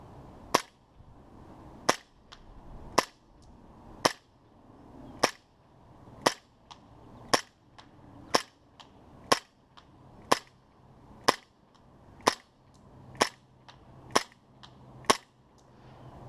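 An ASG CZ P-09 airsoft pistol fires about sixteen sharp, evenly spaced single shots outdoors toward a target over 100 feet away, each a crisp snap roughly a second apart, with no talk.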